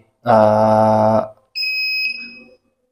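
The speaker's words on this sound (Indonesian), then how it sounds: "alatnya akan mati dan mengeluarkan bunyi di buzzernya" An ESP32 keyless module's buzzer sounds as the device shuts off: a loud harmonic buzz of about one second, then a brief pause and a thinner, higher two-tone beep lasting about another second.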